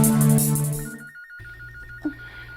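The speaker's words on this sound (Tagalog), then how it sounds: "Ang telepono." A telephone rings loudly and close, with a bright warbling ring tone that starts after a brief pause in the room noise and continues to the end, with no talk over it.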